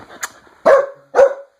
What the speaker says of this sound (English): So that was my dogs getting pissed off over a toy gun.